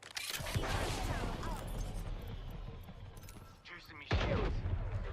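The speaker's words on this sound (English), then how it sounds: "Being shot at." Sustained gunfire in a video game, dense and loud throughout, with a fresh burst of shots near the end.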